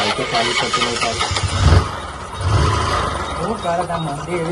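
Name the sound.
motorcycle engine being started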